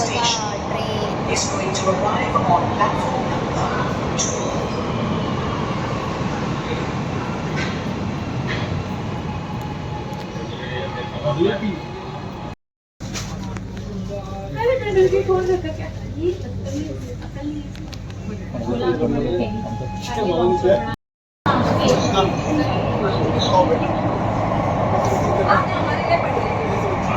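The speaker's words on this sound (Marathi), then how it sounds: "ही बघा ट्रेन." A crowded Mumbai underground metro train rumbles along in a steady, loud roar, with passengers talking and someone speaking over it, cut by two brief silent gaps.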